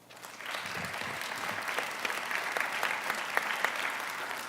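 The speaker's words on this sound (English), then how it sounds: "Can we give them a round of applause?" An audience at a community summit applauding steadily for several seconds, a dense patter of many hands clapping at moderate loudness.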